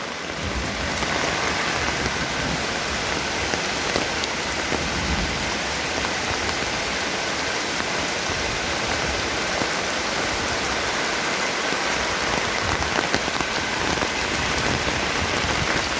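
Long-awaited rain pours down in a dense, even hiss of countless drops striking surfaces, loud and unbroken throughout with no voices.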